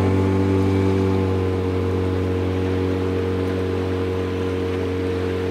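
A continuous paddle-wheel motorboat engine hum on the Volga River, steady and fairly close, with a faint wash of water and no one speaking.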